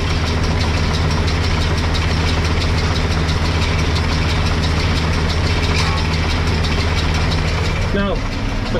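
A Massey Ferguson 6499 tractor engine runs loud and steady during silage baling, held at a high, continuous rev close by. There is a brief dip near the end.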